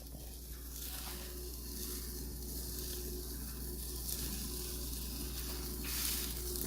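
Keto chaffle batter cooks in a waffle maker with a steady, soft sizzle and faint hiss that holds evenly throughout, close and continuous with no voices.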